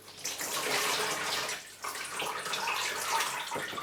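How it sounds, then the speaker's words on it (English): Water pours steadily onto potted Phalaenopsis orchids, a continuous splashing rush that breaks off for a moment partway through, then resumes close to the microphone with no talking. "what I'm going to do is I'm going to water them."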